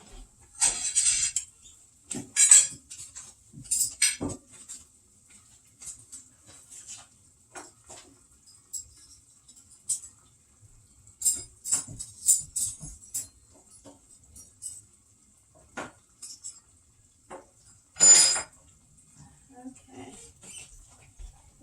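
Forks, knives and spoons set down on a table, scattered light clinks and clatters with quiet gaps between, one louder clank near the end, close and alone.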